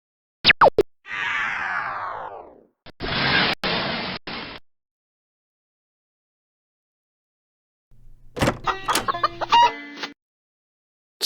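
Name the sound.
chicken clucking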